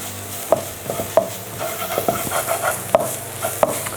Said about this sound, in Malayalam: ഇനി ഇത് നന്നായിട്ടൊന്ന് മിക്സ് ആക്കാം.